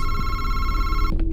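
A telephone rings inside the VR horror game Madison, a steady electronic bell tone sounding loud and close for about a second before cutting off into a short knock-like thud.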